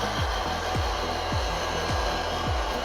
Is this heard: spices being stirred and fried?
no